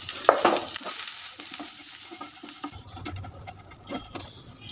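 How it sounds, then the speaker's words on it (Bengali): Green peas frying in a pan with salt while being stirred, a steady sizzle with scraping strokes, loudest early on and then settling into a softer crackle, close and alone. "মটরশুঁটিটা কিছুটা ভাজা হয়ে গেছে"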